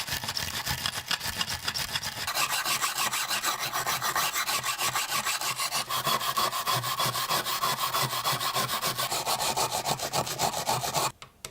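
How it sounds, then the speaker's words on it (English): Continuous rapid scrubbing and rasping of a wire brush removing loose rust from a rusted balisong knife, harsh and close, steady for several seconds before stopping abruptly. "A wire brush removes loose rust"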